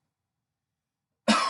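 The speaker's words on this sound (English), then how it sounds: "have the patient turn their head the opposite way and cough" A patient gives a single short cough at the very end, after near silence, during an inguinal hernia check in a head-to-toe physical assessment.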